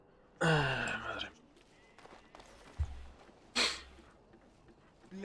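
Loud, close sneeze-like burst from a character in Dragon Age: Origins, set in Denerim, followed by a second sharp nasal burst a few seconds later, with quieter game ambience between.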